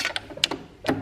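A sewing machine back stitches a skirt seam in short, quick mechanical bursts of stitching, close and fairly quiet, with brief pauses between runs.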